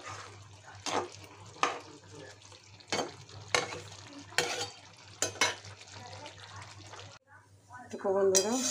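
Fish frying in a pan for a Bengali fish curry, with repeated stirring scrapes and a steady sizzle running underneath; a voice speaks briefly near the end.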